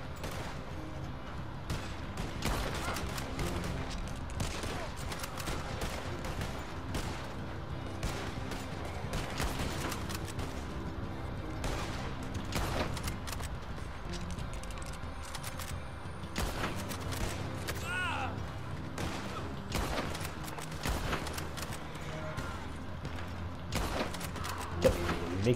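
Scattered gunfire in Red Dead Online during a trader event, repeated distant shots and short volleys cracking over a busy, muffled game soundscape at low level.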